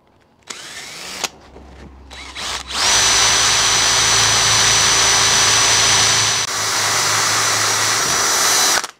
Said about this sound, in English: It's a new drill, it's going through nicely.